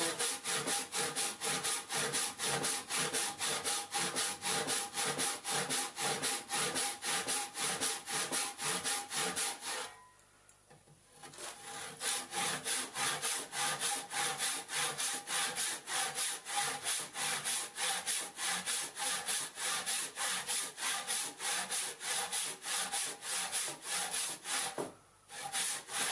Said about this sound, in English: any timber is easy to cut on the end grain, but this seems to be particularly hard to cut